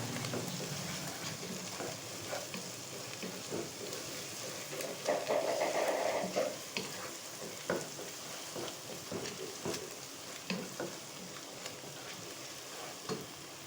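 Garlic and onions sizzle as they are stirred and fried in a pan, a steady hiss broken by scraping stirs and small clatters, with a brief voice partway through.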